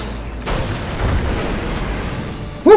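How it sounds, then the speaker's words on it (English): A rumbling, low video-game explosion boom in a Star Wars game swells and lingers, followed by a sharp burst at the end. "that's some nice explosions"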